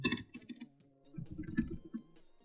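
Computer keyboard typing in quick uneven bursts of clicks, close and fairly quiet, with a brief pause midway before another run of keystrokes.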